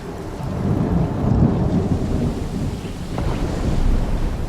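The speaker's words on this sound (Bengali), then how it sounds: "আকাশ ফেটে যাওয়ার মতো একটা প্রচণ্ড শব্দ, বজ্রপাত।" A loud thunderclap rolls into a long, deep rumble during a storm, with rain and wind noise underneath, swelling and easing over several seconds.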